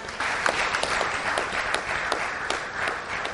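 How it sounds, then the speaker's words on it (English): An audience at a telecoms consumer parliament gives a speaker a steady round of applause: dense, moderately loud clapping that lasts the whole short stretch. "Please, a round of applause for Engineer Jua."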